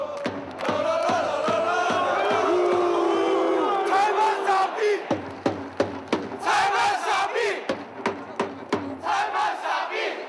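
Football supporters in a Chinese stadium roar and chant in unison, a massed crowd of voices rising and falling with sharp rhythmic claps or drumbeats punctuating the din.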